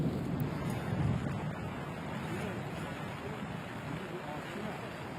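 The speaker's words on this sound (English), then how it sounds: "It has been a frustrating, stormy day." Wind gusting across a golf course on a stormy day during a women's professional tournament round, a constant broadband rumble and buffeting on the microphone, heaviest in the low end, with no speech.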